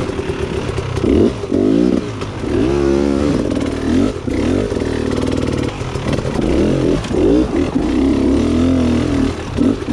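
A Beta 300RR dirt bike engine revs and labors loudly and close on an awkward slope, its pitch rising and falling in uneven bursts with brief dips, running continuously throughout.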